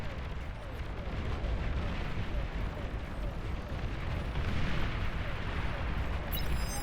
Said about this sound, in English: Just some explosion compilations